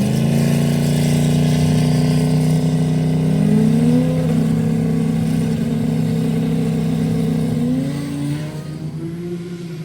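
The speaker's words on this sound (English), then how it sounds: "I get on the brake and the car just sits there and goes," A turbocharged drag car with a blown intercooler coupler drones loudly while held on the brake, its engine tone wavering and rising in pitch steps, then dropping off near the end with no talk.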